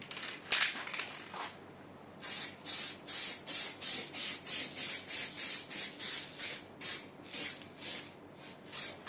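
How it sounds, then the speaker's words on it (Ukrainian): Spray paint can spraying a fresh coat while refinishing, the paint sputtering unevenly: a quick scattered burst, then a steady series of short hissing sprays in an even rhythm, close and clear with no talk. "нам неякісну фарбу балончику зробили, що вона плюється"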